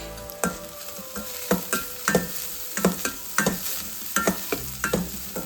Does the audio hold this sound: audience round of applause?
no